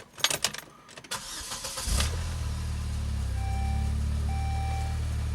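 A Saab 9-3 car starts up: a short grinding crank after some clunks and handling noises, then the engine catches and settles into a steady idle with a faint warning chime beeping.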